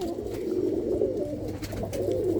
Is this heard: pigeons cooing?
yes